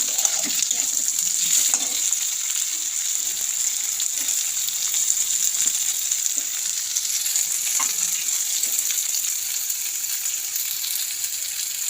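Onion, potatoes and salt fry in a pan with a steady, close hiss that runs unbroken throughout, broken by faint scraping and stirring clicks. No one speaks.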